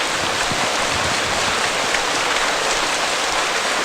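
Steady rain pours down in a dense, even hiss, loud and unbroken throughout with no voices.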